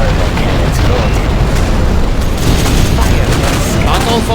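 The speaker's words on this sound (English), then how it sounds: "Infernal cannons loaded." In C&C Generals, Infernal Cannon artillery fires as a dense, loud barrage of booming blasts and bursts, continuous and heavy across the whole stretch, with battlefield voices mixed in.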